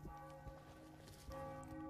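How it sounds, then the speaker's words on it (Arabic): A church bell tolls in mourning, its ringing tone sustained and fairly loud with a second strike near the end, over faint background ambience. "سمعنا الجرس عن يدق حزن."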